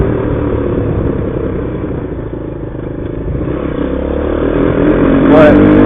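A Grom clone motorcycle with a 24mm carburetor runs loud and close, its engine a steady, slightly boggy drone that swells toward the end, with clattery mechanical noise over it.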